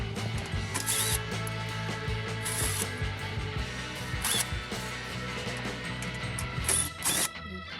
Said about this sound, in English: Now from the middle, there are 6 screws in a row that needs to be taken out one by one.